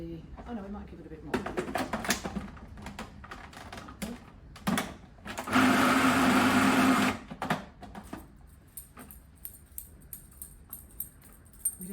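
Food processor mincing bacon and garlic for meatballs gives one loud, dense whirring burst of about a second and a half amid kitchen clatter, with a person talking before and after.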